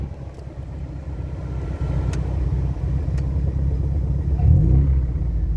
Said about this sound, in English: Oh, I love the sound of this car. So I just sit here, idling, in a 1979 Alfa Romeo